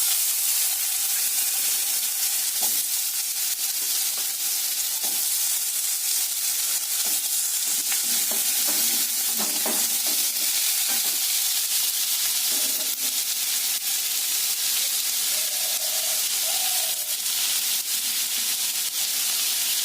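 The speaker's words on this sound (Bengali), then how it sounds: "মাছের মুড়োগুলো ভাজা হয়ে গেল এবার ওই তেলের মধ্যে আলুগুলো ভেজে তুলে রাখবো" Potatoes frying in hot oil left over from frying fish heads, giving a steady, dense sizzle and hiss close up with occasional soft scraping, continuous and without talk.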